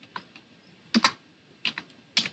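A computer keyboard used to type Lua code gives a handful of close, crisp keystrokes in small clusters, separated by short pauses.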